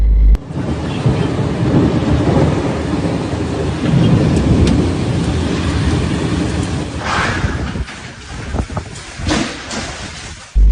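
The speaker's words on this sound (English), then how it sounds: "Heavy rain fell on Tuesday evening, accompanied by thunderstorms in separate areas of the Makkah al-Mukarramah neighborhood" Heavy rain with thunderstorms over Makkah, Saudi Arabia: a loud, steady broadband roar of downpour runs throughout, with rumbling low swells and a few sharper crackling bursts in the second half.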